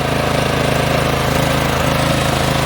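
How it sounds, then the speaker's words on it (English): An MTD riding mower engine with a fault that keeps the blades from engaging runs at a steady, loud, close chug, a continuous rapid pulsing drone without pauses or talk. "We'll fire up the mower."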